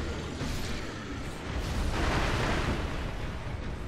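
A firecracker goes off in Sekiro: Shadows Die Twice, a broad crackling burst that swells into a dense, sustained rush of noise, loud and filling the whole moment with no voices.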